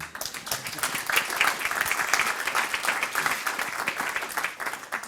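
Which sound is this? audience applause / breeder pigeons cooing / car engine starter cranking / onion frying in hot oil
audience applause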